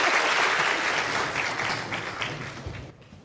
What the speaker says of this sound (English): round of applause for Sarah, please